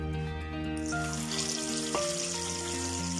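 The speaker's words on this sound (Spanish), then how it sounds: "Vas a empezar a agregar el pollo y las vas a empezar a freír por el lado de la piel." Chicken pieces frying skin side down in hot oil for Oaxaca-style fried chicken, giving a steady close sizzle with background hum and tonal kitchen noise throughout, no talking.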